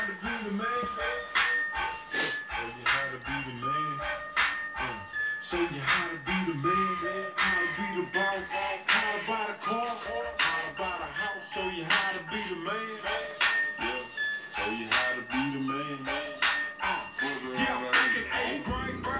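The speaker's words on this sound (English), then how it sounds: "I'm going to play some tracks to it now." Hip-hop track plays through a homemade home theater subwoofer driven by a car amplifier, with steady beats and punchy bass hits running continuously and loud throughout.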